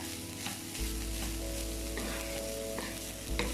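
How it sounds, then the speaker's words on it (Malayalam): Broccoli thoran being stirred in a pan, with a steady sizzle and scraping through most of the stretch and no talk. "പിന്നെ നമുക്കിത് നന്നായിട്ടൊന്ന് മിക്സ് ചെയ്ത് കൊടുക്കാം."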